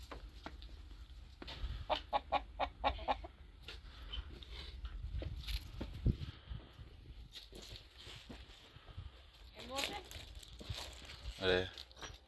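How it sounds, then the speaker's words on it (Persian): A hen and a rooster cluck and call in a farmyard, giving bursts of short rhythmic clucks near and far, while people talk and footsteps move nearby. "یه مرغ هم آوردم واسه خروس"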